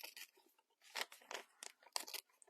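Paper is torn by hand around postal stamps in short, crisp ripping bursts, quiet and close, with brief pauses between the tears.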